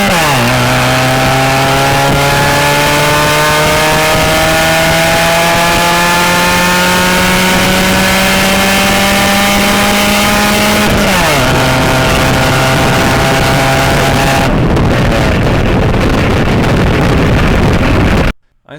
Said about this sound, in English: I recorded a 0 to 85 mile per hour pull accelerating from a toll booth with this exhaust.